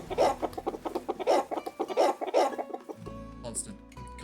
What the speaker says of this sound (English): Have some chicken sounds for everybody that's just come in